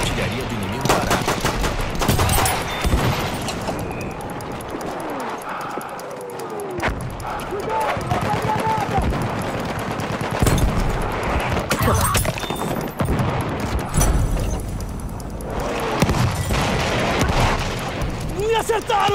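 Enemy artillery barrage in Battlefield 1 on the Argonne Forest assault, with heavy shell blasts and dense rapid gunfire rolling continuously and loudly throughout, shouting voices mixed in.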